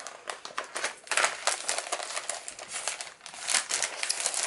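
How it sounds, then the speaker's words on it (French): Small papers crinkling and rustling as they are gathered and tidied away, a steady run of crisp, close crackles with no talking. "Donc, je vais ranger mes petits papiers."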